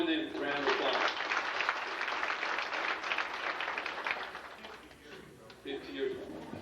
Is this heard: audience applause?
yes